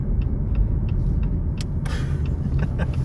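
Car driving while pulling into a railroad repair workplace, a steady low road rumble and engine drone with light ticking and a brief rising whoosh near the end.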